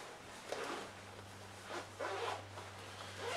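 A zipper on a pocket of a Tru Spec 3-in-1 jacket, a few soft raspy pulls close by, quiet against a steady low hum with no talking.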